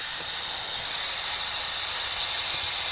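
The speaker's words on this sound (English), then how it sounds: "all I got to do is turn this on, break the bleeder valve, and it should start sucking out" A Holt Industries pneumatic air-operated brake bleeder runs with a loud, continuous high hiss of rushing air, steady and close, with no voices.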